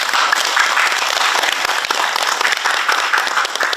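An audience at a Korean peace and unification forum in Chungnam bursts into loud, sustained applause, dense overlapping clapping held steady throughout with no pause.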